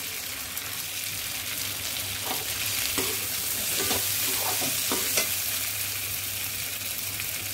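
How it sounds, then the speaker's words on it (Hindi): Potatoes and cauliflower for aloo gobi fry in a pan with a constant hissing sizzle, while a spoon stirs them in a run of soft scraping strokes in the middle. "अब देखिए फ्रेंड्स, ये आलू गोभी फ्राई हो चुकी है अच्छी तरह से।"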